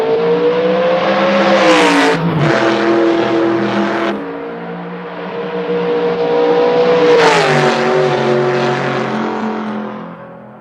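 A race car drives laps on a track, its loud engine note climbing and dropping as it accelerates, a sharp cut around shifting, then another long high-pitched run down the straight that fades at the end.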